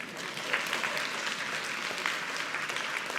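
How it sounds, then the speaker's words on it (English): Audience applause fills a hospital heart forum, a steady wash of many hands clapping throughout at moderate volume with no talking. "You can give her a round of applause."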